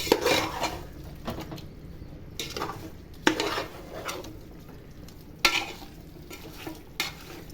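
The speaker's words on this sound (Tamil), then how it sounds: "கொஞ்சம் நல்லா வதங்கட்டோம்மா." Onions and spices sautéing in oil in a pot for Kongu Nadu–style Coimbatore biryani, with steady frying sizzle broken by repeated scraping stirs and clinks of a utensil against the pot.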